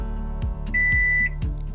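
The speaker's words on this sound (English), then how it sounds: "I need to count to 3 seconds and wait for my microwave to beep." A Russell Hobbs 28L silver mirror-finish microwave gives a steady electronic beep after the stop/cancel button is held to activate its child lock, a sustained tone over a low hum with soft button-press thumps around it.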